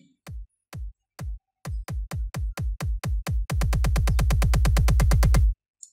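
A kick drum sequenced in FL Studio under an automation clip hits alone, first as sparse thumps, then a steady beat, then a rapid dense roll of deep punchy kicks before stopping abruptly.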